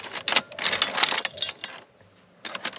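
Metal skeleton keys jangle and clink in short bursts as they are handled among scrap metal junk, close and fairly loud, with a brief pause before more rattling.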